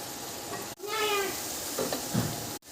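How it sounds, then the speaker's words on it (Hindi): Onions browning in a pan for masala bhindi make a steady close sizzle and crackle, broken by two short gaps, with faint tonal squeaks and bubbling in between. "अब प्याज को हम कर रहे हैं ब्राउन।"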